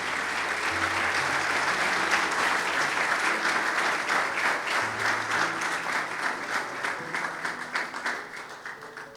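Church congregation at a Sunday service in Dubai clapping their hands together as an offering to Jesus, a dense, steady crowd of applause sustained throughout with faint musical tones underneath.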